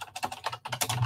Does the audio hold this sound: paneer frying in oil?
no